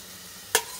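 Red and green bell peppers drop into a hot pan while cooking chicken cutlets, giving two sharp bursts of sizzle over a quiet hiss.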